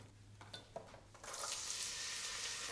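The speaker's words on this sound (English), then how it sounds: "And now I'm gonna add the chard stems and the onion." Chard stems and onion hit warm olive oil in a pot, starting with a few soft clinks and stirring scrapes before a steady, fairly quiet sizzle takes over and holds.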